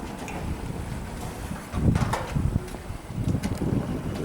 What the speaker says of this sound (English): Now there is a bit of wind blowing